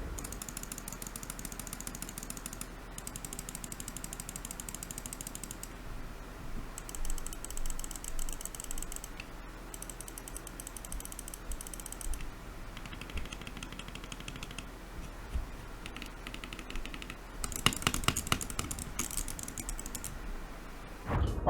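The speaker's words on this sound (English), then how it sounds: "here's a sound test for all the buttons." The buttons of a HyperX Pulsefire Haste gaming mouse are pressed in turn, giving quiet, crisp, rapid clicks in several runs over a faint steady background hiss.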